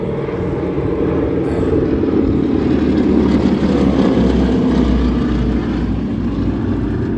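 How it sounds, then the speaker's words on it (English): A North American Harvard trainer with a 600 hp Pratt & Whitney R1340 radial engine drones loudly and steadily throughout, a close, continuous propeller roar with rough low-end pulsing and no talk. "The Harvard aircraft, 600 horsepower Pratt R1340, so it's a bigger engine"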